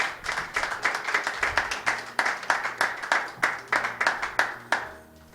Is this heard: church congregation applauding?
yes